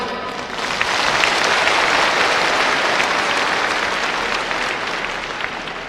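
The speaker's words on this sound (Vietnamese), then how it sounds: "có một tràng vỗ tay" Steady, dense audience applause fills an outdoor festival gathering in Hanoi, a sustained crowd clapping that holds at an even, loud level throughout with no talk over it.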